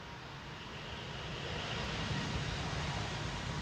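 A KLM Airbus A220 bound for Zurich spools up its engines on a windy day at Amsterdam Schiphol, a distant, soft broadband roar that slowly builds and then holds steady.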